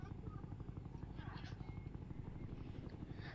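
A Black Hawk helicopter in Roblox drones with a steady low rotor thrum and rhythmic chop, loud and continuous, with faint game noises and murmured voices over it.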